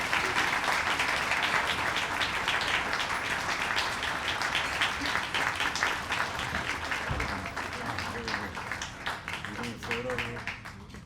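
Audience applause at a Yale gala welcoming a professor, dense steady clapping that fills the room, easing slightly toward the end as a voice begins to speak.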